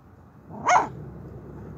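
A single short dog bark rises briefly above quiet background noise.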